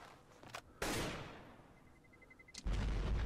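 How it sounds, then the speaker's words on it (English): Explosion transition effect in a channel intro: a sudden loud boom bursts out and decays over about two seconds, a brief high tone rings, then a second heavy blast hits near the end. "Also the cool explosion transition right here, which I really like."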